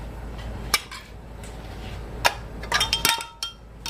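A metal canning lid set onto a glass jar rim, giving a few sharp, close metallic clinks and taps scattered over a quiet background.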